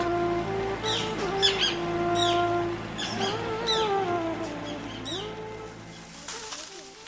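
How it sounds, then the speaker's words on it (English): Birds call at a wildlife sanctuary in Udaipur that holds parrots, herons, flamingos, cranes, cormorants and kingfishers. Short chirps and warbling calls rise over a sustained tonal background, moderately loud and fading toward the end. "It is now a wildlife sanctuary and home to a huge variety of bird life, including parrots, herons, flamingos, cranes, cormorants, kingfishers"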